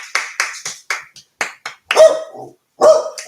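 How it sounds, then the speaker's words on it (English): A dog barks repeatedly at close range, a series of sharp, loud single barks separated by short pauses, with no talking over them. "Now stop barking or I'm going to go mad."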